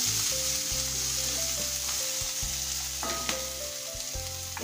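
Garlic ginger paste with a little kasuri methi fries in a pan, a continuous loud sizzle with a steady hiss, set over low humming tones, with only faint stirring knocks.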